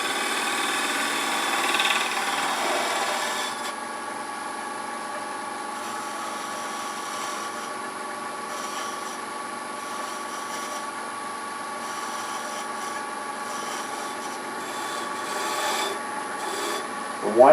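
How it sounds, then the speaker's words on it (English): A lathe gouge shear scraping a spinning Bradford pear bowl gives a continuous steady rasping hiss over the constant motor hum, with a brighter scraping burst at the start and another near the end. "Do a little bit of a shear scrape."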